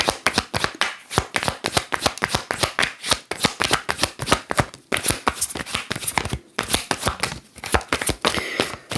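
Steady, rapid riffling and slapping of tarot cards being shuffled, continuous and close, with no talking.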